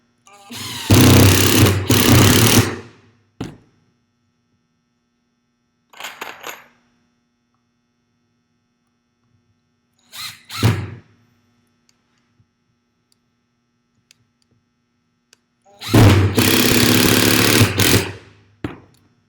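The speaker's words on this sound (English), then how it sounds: "And the impact screw gun makes it easier to attach the actual frame." An impact screw gun drives screws into a wooden stage decking frame in two long, loud whirring bursts at the start and end, with a few shorter bursts in between and near silence between them.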